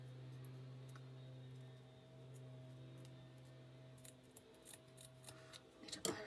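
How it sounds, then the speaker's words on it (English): Scissors snip the corners off a handmade greeting card, a series of faint, crisp cuts near at hand over a steady low hum, growing more frequent toward the end. "I'm just going to cut off the corners just to make a nice detail there"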